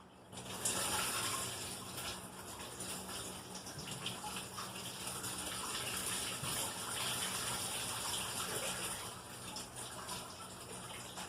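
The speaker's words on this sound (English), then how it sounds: "There's all the coolant out of the block." Coolant drains out of the block of a high-mileage Honda D17 engine into a catch container, making a steady close gush and splatter of liquid that runs on continuously.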